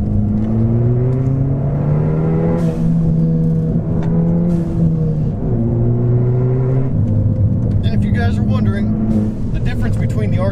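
A car on Falken Azenis RT615K+ tires accelerates hard through canyon corners, its engine note droning loud and close and stepping through gear changes, with the driver talking over it throughout.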